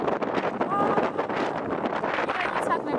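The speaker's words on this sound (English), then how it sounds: "Can you guys tell how windy it is right now?" Heavy wind buffets the microphone in a continuous rumbling rush, gusting unevenly throughout with no clear speech.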